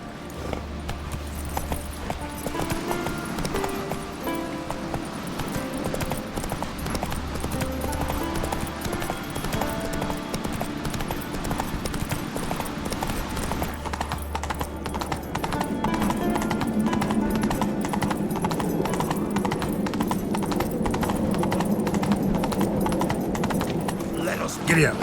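Roach, Geralt's horse in The Witcher 3 video game, goes at a steady clip-clop of hooves under a continuous music bed, while a voice talks over parts of it.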